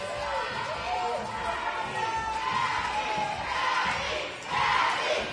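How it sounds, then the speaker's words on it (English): A crowd screams and cheers at an athletic boot camp competition during a rope-slam event, a dense sustained roar of shouting voices that swells and surges near the end. "The crowd is screaming for Gabby."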